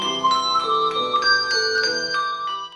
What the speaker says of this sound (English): Handbells. If you see, they play a whole song.